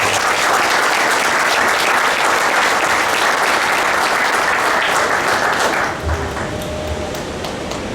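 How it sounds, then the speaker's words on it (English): Sustained round of applause from a banquet audience at a golf club, dense and steady for about six seconds before thinning out with some murmuring. "I'd like to hear another round of applause for our Director of Agronomy, Phil Kafari"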